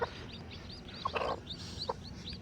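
A domestic hen clucks softly over her newly hatched multicoloured chicks on a cold day, with short low clucks and a few brief higher peeps scattered through a quiet background.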